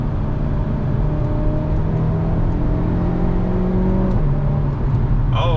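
A Hyundai Elantra N accelerating from inside the cabin, a steady loud engine drone and road roar that climbs, with a slight dip around a gear shift near the end, no talking.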